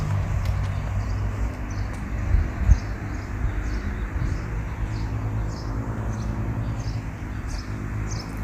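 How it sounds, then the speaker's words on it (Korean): Birds sing outdoors in the garden of a historic birthplace house in Gumi, South Korea, with faint, high chirps repeating regularly over a low background rumble. "여러분들 새소리 들리십니까?"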